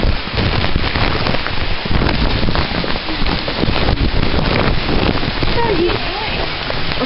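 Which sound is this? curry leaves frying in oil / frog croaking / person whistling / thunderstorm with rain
thunderstorm with rain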